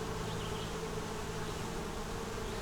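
Honey bees swarm around a double-deep nuc hive, their dense buzzing hum steady and close with no pauses or voices.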